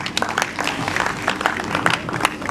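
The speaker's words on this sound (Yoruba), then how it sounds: "Ẹ bá mi pàtẹ́wọ́ fún wọn o." An audience applauds a performer introduced to recite Yoruba poetry, with dense, continuous clapping from a crowd, steady and moderately loud throughout.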